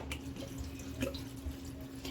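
Water trickles and drips into a pot while fenugreek leaf massoppu is being made in a Karnataka-style kitchen. It is a short, quiet, close-up pour with no talking over it.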